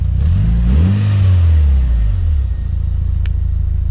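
A Mitsubishi Lancer Evolution engine with a new intake revs up close, rising and falling in pitch over a couple of seconds, then settles back to a steady low idle rumble.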